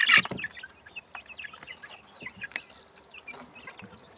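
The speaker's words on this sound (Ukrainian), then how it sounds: "Отакі От курчатка славні" Soft peeping and cheeping from a group of three-week-old chicks, with a sharp chirp at the start followed by scattered high calls and faint rustling close by.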